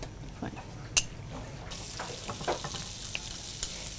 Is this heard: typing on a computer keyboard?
no